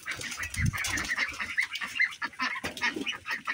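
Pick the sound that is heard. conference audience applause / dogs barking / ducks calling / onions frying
ducks calling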